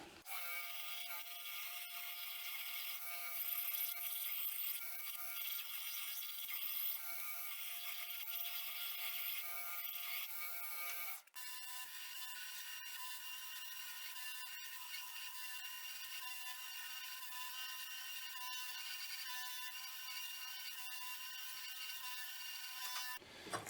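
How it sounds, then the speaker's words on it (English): Steady high-pitched whir of a belt grinder cleaning the flats of a forged Damascus kitchen knife, running continuously, with a brief shift in tone partway through as the work changes. "let's jump on the grinder"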